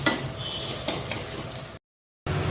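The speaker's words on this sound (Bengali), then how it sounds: "মাছের ঠোঁটাটা আগে ভাজা নেই।" Korti fish frying in a pan: a steady, close hiss of oil sizzling with a couple of soft clinks. The sound cuts to a brief silence before the sizzle resumes.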